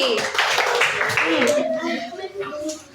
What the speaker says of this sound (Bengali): ওকে হাততালি